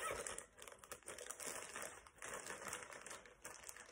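A plastic bag crinkles and rustles continuously at close range, soft and quiet, with small irregular crackles.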